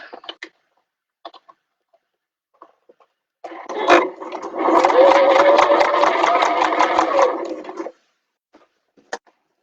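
A sewing machine stitches a bag in a steady, fast, buzzing run lasting several seconds, close and loud, with brief faint handling clicks and taps before and after.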